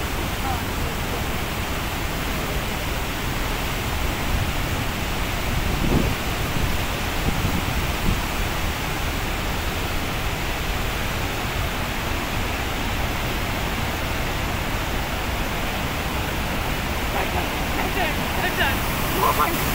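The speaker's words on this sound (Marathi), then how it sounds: "कॅनलचं पाणी सोडलं इकडं" Released canal water rushes under a bridge, a loud, steady broadband roar that fills the whole stretch without a break, close and constant.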